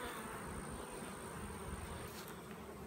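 Honeybees swarm thickly around a brood frame lifted from a hive, their dense, steady buzzing filling the air close by without any voices.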